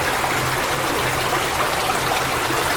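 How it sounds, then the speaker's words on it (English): Noisy waterfalls in an underground river, a dense, steady roar of rushing water that fills the space evenly and loudly, with no voices. "Some noisy waterfalls in here and some deep pools"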